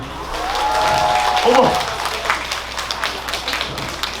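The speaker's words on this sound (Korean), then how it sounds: "우리 유구 동네 주민 여러분한테 박수 한번 주세요." An outdoor crowd at the first Yugu colorful hydrangea garden flower festival in Gongju applauds local residents, a steady burst of clapping that swells and then thins out, with a voice and a sustained tone mixed in.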